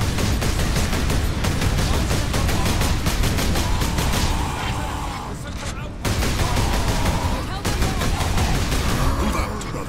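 Artillery and heavy weapons pound away in Warhammer 40,000 Space Marine during the Warboss Grimskull boss fight, a dense nonstop barrage of rapid, loud blasts that barely lets up.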